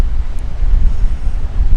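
Wind buffets the microphone on the port-side deck of a cruise ship heading into Glacier Bay, a loud low rumbling gust that pulses unevenly, with a faint water rush beneath and no talking.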